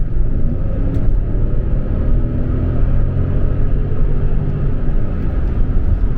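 A Mercedes ML500 SUV with a V8 engine surges under transmission kickdown through the 2,000 to 4,000 RPM range, a loud, steady low rumble heard from inside the cabin, with no voices.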